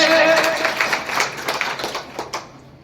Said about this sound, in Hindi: इनके लिए कहने के लिए जोरदार तालियां बजा दीजिए मेरे